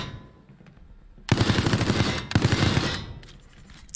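Machine gun fire from the video game Resident Evil Resistance: two dense, loud sustained bursts of rapid automatic shots, each lasting about a second, separated by a brief gap, with quieter game ambience before and after.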